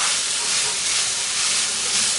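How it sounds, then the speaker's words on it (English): Chopped onion seasoned with salt and pepper cooks down in a pan, giving off a steady, bright hiss of sizzling that holds at an even level throughout. "I'm going to cook this onion down in this"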